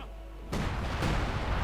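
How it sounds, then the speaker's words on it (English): Two booming blasts from 25-pounder artillery guns in the Company of Heroes 2 war game, each a sudden loud burst with rumbling decay, the second following about half a second after the first. "The 25-pounder guns just mercilessly blasting away."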